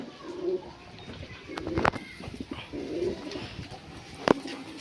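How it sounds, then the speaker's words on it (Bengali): Pet pigeons let out to wander in the sun, with soft low cooing and a few sharp wing or foot flutters nearby, quiet and intermittent over a short stretch. "এই যে পায়রাগুলোকে সব ছেড়ে দিয়েছি, এখন রোদে ঘুরছে"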